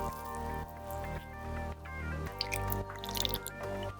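Noodles are mixed by hand with Korean beef tartare, minced garlic, sesame oil and chopped scallions, making soft wet squishing and dripping sounds in short bursts, close and fairly quiet.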